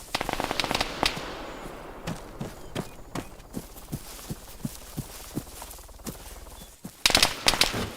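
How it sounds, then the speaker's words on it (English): Gunfire crackles through a firefight near a gun store in Arma 3 Wasteland, with a dense burst of shots, then a series of sharp single shots at a regular pace. The shots sound somewhat distant, and a loud cluster of shots ends the sequence. "I started to hear up at the actual gun store loads of shots. Somebody was having a big gunfight up there"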